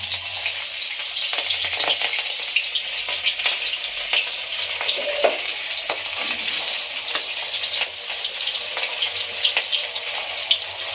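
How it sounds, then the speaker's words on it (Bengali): Catla fish pieces frying in hot oil in a kadai, a loud, dense, unbroken crackling sizzle close up, with no voices. "এবার আমি মাছ দিয়ে দিচ্ছি, তেল গরম হয়ে গেছে"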